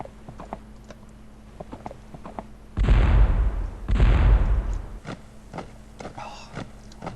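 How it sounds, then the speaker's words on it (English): Artillery fires in the strategy video game Svea Rike II: two loud, close, booming blasts about a second apart, each with a rushing roar, set against a quieter background of steady clopping and ticking game sounds. "Oh, goddamn artillery."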